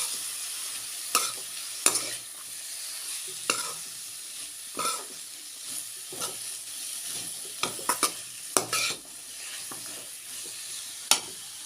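Cabbage and potato frying in a pan, stirred with a spatula: steady sizzle and hiss under repeated scraping and clanking strokes against the pan, close and irregular, with no talking.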